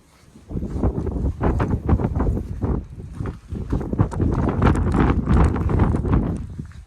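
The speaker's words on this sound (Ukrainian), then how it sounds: "Який там вітер шалений" Strong wind buffets the microphone in loud, continuous gusts at a stone castle in Pniv, Ukraine, with a rough roaring rumble throughout.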